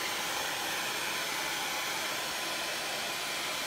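A hair dryer blows continuously up close to dry a lower layer of paint on an artwork, a loud steady whoosh with no break.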